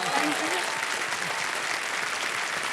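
A studio game-show audience on KBC breaks into continuous applause, a dense wash of many hands clapping close and loud for the whole moment, with a voice briefly heard over it at the start.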